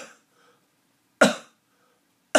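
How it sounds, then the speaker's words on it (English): Two sharp, single coughs, close and loud, separated by silence, with a faint trailing breath at the very start. "when I cough, I release that compression."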